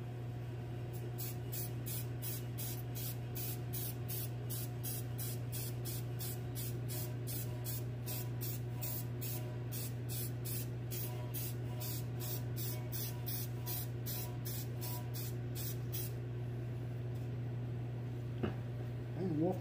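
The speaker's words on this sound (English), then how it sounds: "Again, we use short, light spurts as to not get a heavy coat on." Short, light spurts of finish coat sprayed onto freehand-carved live edge cedar, a rapid series of hissing bursts over a steady low hum, stopping near the end.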